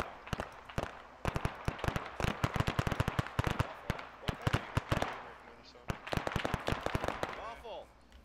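Gunfire in the military shooter game Arma, with rapid bursts of sharp shots crackling in clusters, some near and loud, with a short pause before more volleys, while a voice talks underneath.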